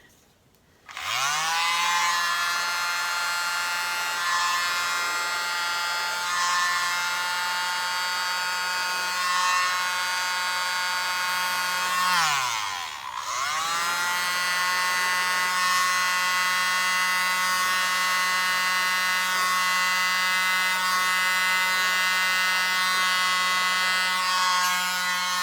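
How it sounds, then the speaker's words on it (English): A small electric mini blower pushing acrylic paint off the side of a canvas, a loud steady high-pitched whine that runs on and on, briefly dipping and spinning back up once midway, with no voices. "mini blower. Blow some of that down off the side."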